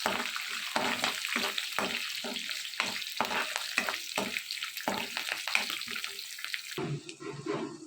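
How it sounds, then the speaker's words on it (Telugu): Dried red chillies, garlic, curry leaves, chana dal and urad dal sizzle in hot oil for an ivy gourd chutney tempering. A spoon stirs and scrapes in a quick, regular rhythm over the constant frying hiss, and the sound thins near the end. "ఎండుమిర్చి ఎల్లుల్లిపాయలు కరివేపాకు పచ్చెనపప్పు మినపప్పు వేసుకుని ఇవన్నీ కూడా బాగా వేయించుకోవాలి"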